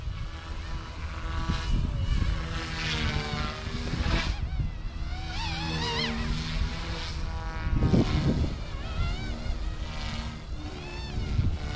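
A Blade Infusion 180 collective-pitch RC helicopter cruising at low head speed on a 3S battery pack, a continuous close buzzing whine of rotor and motor that shifts in pitch now and then, alone.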